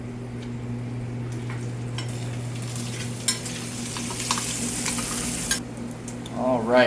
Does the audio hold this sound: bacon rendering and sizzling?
yes